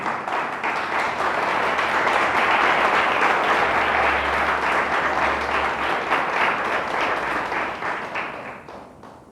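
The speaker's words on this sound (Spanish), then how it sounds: "Denle un fuerte aplauso a Dios." A church congregation gives loud, sustained applause, dense clapping from many hands that swells and holds for several seconds before gradually thinning out.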